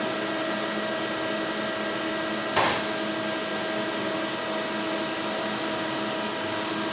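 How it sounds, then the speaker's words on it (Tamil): A CNC lathe holds a steady mechanical hum as its parting tool cuts off a taper pin, with one short sharp transient partway through. "இப்போ பார்த்திங்கன்னா பார்ட்டிங் கட் ஆகிட்டுருக்குது."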